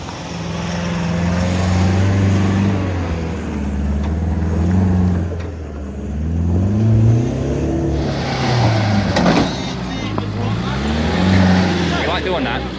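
Toyota Prado 4WD climbing a steep hill on an off-road track, the engine revving up and down in repeated loud surges with rising and falling pitch while people talk over it.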